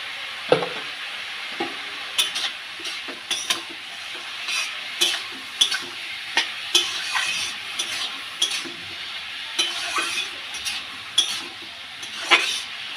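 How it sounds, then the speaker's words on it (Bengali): Spoon stirring ash gourd curry with turmeric, salt and spices in a pan, with repeated scraping and clinking strokes in an uneven rhythm over a soft sizzle, close and fairly quiet. "সব জিনিসগুলো দিয়ে ভালো করে আমি মিশিয়ে দিলাম।"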